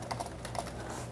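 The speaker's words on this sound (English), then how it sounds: "Now I'll do the same thing again with the Huntsman with the linear optical keys." Soft, muted typing on a Razer Huntsman keyboard with linear optical switches, a few light key taps close by at low volume over a quiet hum.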